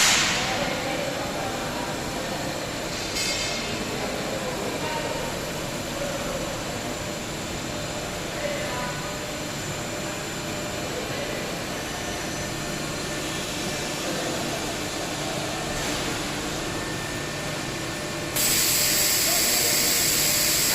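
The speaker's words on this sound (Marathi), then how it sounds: "तर आपल्या मशीनचा हेड हा होम पोझिशनवर येऊन जाईल।" A CNC laser cutting machine head travels to its home position, giving a long, steady mechanical whir with faint ratcheting clicks, ending in a brighter hiss near the end.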